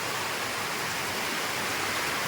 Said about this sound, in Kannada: ಮಳೆ ನೀರನ್ನ ಈ ಥರ ಹಿಡ್ದಿಟ್ರೆ ಚೆನ್ನಾಗಿರುತ್ತಲ್ಲ